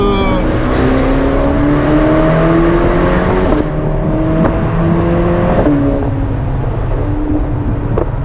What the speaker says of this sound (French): La poussée, franchement, V8, moteur turbo, c'est plein tout le temps